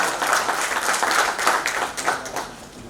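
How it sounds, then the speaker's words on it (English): An audience at an edtech convention applauds in a loud, continuous round of clapping that fills the whole stretch with dense, even crackle. "huge round of applause for Dr. Uma Ahuja."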